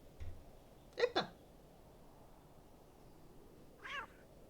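A cat in the adventure game The Excavation of Hob's Barrow gives a short double meow, then a fainter single meow a few seconds later, over quiet background.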